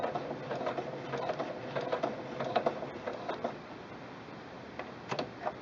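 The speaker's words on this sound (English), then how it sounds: "continue sewing onto 2 layers of fabric" A sewing machine fitted with presser foot A stitches through two layers of fabric, with a rapid run of ticking needle strokes in uneven bursts and brief pauses, close and fairly quiet.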